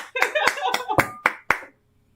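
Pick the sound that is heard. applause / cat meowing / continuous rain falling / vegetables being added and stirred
applause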